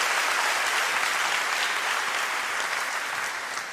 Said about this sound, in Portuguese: Então pode dar uma salva de palmas.